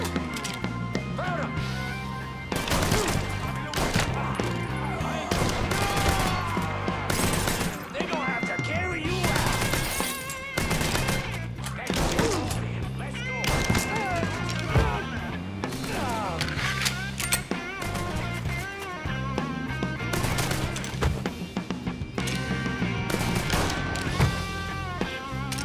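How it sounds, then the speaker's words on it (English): Gunfire in the video game Mafia 3: shots rattle repeatedly through a dense, loud mix of game sound and music, with someone talking over the action. "He's still shooting."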